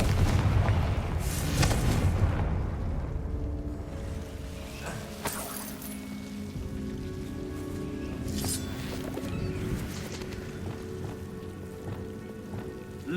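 Deep booming blasts from Confringo spells in Hogwarts Legacy, several explosions over a steady rain-like hiss, with loud bursts near the start and sharper cracks later on.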